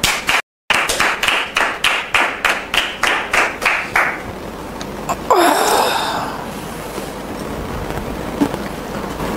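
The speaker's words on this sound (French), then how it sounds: "Sous vos applaudissements, s'il vous plaît." Studio audience on a TV talk show welcomes a guest with rhythmic clapping in unison, about a dozen steady beats, then the claps dissolve into a softer rustle and a brief whoosh before quiet room noise.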